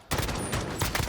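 A dense burst of rapid gunfire from a Call of Duty League match fills the moment, loud and continuous with a few sharper shot peaks.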